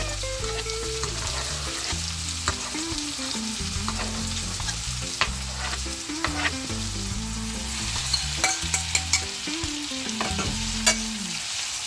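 Scotch bonnet and orange pepper sauteing in a pan with tomato and green pepper for Jamaican bully beef, a steady close sizzle with scattered stirring scrapes and clicks throughout, no voices.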